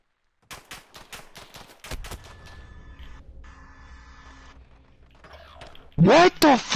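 Shotgun fire in a video game: a quick series of sharp blasts at the start, then one heavier shot, followed by lingering game noise and a loud burst near the end.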